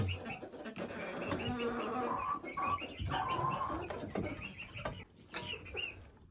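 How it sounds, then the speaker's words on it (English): Backyard chickens peck at and eat garden beetles, with steady clucking and soft bird calls carrying close by over a continuous busy background. "The white chicken has figured it out. She is eating the beetles."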